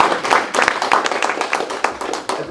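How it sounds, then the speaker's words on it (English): A small audience at a career talk claps in a short, uneven burst of distinct, fairly close handclaps lasting a couple of seconds. "You can clap for that."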